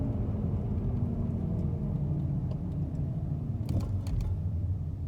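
A Chevy Malibu with a suspected bad front wheel bearing keeps up a constant low rumbling hum from inside the cabin while braking, with a few faint clicks partway through and no speech.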